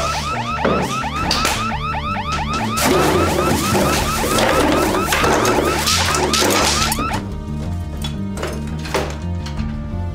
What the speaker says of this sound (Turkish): Alarm çalıyor diye aradılar, aklım gitti.